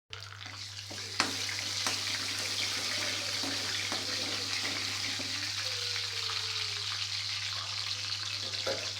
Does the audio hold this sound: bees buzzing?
no